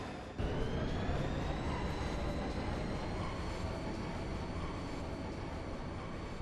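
A steady, loud mechanical rumble from the train bound for Deling City in the video game Final Fantasy 8, with a faint high whine layered over continuous low roar after a brief quiet start.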